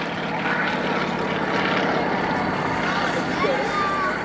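Aerostars aerobatic display team propeller aircraft fly at the Cosford airshow. Their engines make a continuous, fairly loud drone under a commentator's voice.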